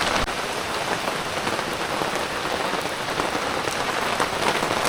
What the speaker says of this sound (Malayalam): മഴയാണ് ഗൈസ്, മഴ.